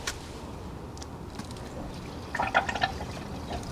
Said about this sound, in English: that is all the air bubbles and all the gravity feeding out the water